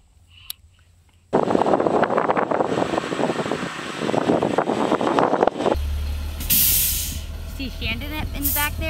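A school bus pulls up and stops with a loud engine rumble and a sharp hiss of air brakes, followed by idling and a high whine while people talk nearby.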